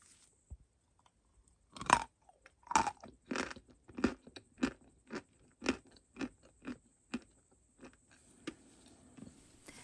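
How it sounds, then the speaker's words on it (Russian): Barsuk edible chalk, broken into thin plates, crunches between the teeth in a run of about a dozen sharp, close bites and chews that gradually soften and space out, with no talking. "Мелок довольно-таки хрустящий."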